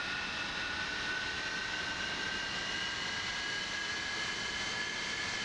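MiG-31 jet engines in DCS World roar as power comes up, a steady, loud, dense whine with a high tonal line sustained throughout and no voices.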